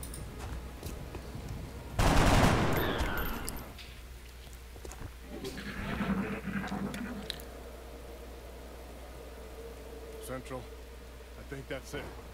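A burst of gunfire erupts in a tactical squad shooter video game, a loud, dense volley lasting about two seconds, then a few fainter follow-up sounds, with people talking over it.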